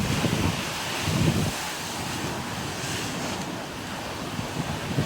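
Strong seaside wind roars steadily into the microphone, with waves and surf washing underneath in a dense, unbroken rush that swells briefly near the start.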